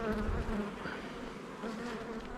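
Honey bees buzz steadily around an open hive while its brood frames are lifted and checked, a dense close drone with shifting pitch and no voices.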